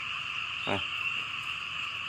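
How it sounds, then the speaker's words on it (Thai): A frog gives one loud, short croak, close by and alone. It is caught in a frog trap that has been baited with climbing-perch fish. A steady high insect-like drone runs beneath it throughout. "ตุ้มห้าหลังได้กบสิบตัวครับ"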